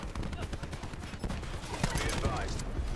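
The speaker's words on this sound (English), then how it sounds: "Oh, that stupid overpowered SMG" Rapid SMG gunfire in Call of Duty Black Ops 4, a busy multiplayer fight with dense bursts of shots and impacts running throughout, loud and close, with game effects layered over the firing.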